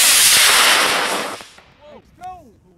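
An X10C model rocket launches with a loud broadband rushing roar that fades over about a second and a half, followed by distant outdoor voices calling out afterward.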